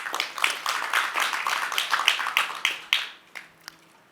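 Audience at a conference opening clapping in a dense burst of applause that thins into scattered claps and fades out.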